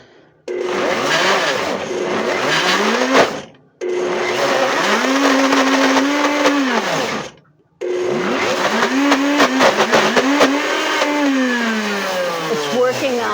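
A kitchen appliance pulses shallots in three long bursts, each a loud whirring motor that rises, holds and winds down, separated by brief pauses, with the chopping growing rougher in the last burst.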